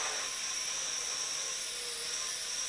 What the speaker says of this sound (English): this is the indoor flight of the Aviator